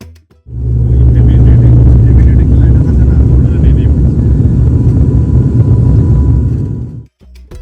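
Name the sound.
airplane during boarding and takeoff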